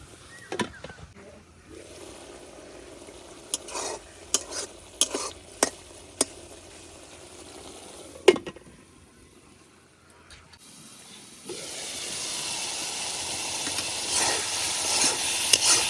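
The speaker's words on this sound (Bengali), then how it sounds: "শুটকি আর মশলাগুলার একটু ভালো করে কষাই নিলাম" Dried chela fish and spices stir-fried in oil in a pan, with intermittent sharp scraping clicks of a spatula, a lull, then a louder continuous sizzling hiss building toward the end.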